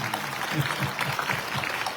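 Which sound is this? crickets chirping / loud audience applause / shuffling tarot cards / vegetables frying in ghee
loud audience applause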